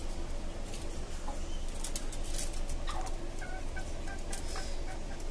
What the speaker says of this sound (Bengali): আর এখানে আমার আরো দেশি মুরগি আছে